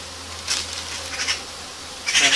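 Honeybees in a queenless swarm hive, buzzing close by in short swelling bursts over a low steady hum, with no voices.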